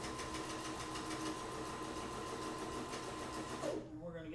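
A sewing machine runs at speed stitching a soft-sided briefcase, a fast steady mechanical chatter that holds evenly and then stops abruptly near the end.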